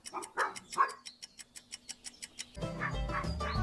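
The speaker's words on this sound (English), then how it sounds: "Here's a dog." Dog barking in quick, faint yips repeated in a steady rhythm, followed by a louder burst of mixed sound.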